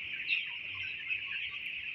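Fifteen-day-old broiler chickens on a poultry farm, a faint continuous chorus of soft high peeping and chirping from many birds at a distance.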